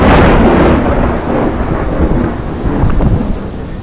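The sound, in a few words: thunderstorm with thunder and rain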